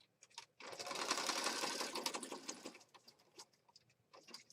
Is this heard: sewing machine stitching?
yes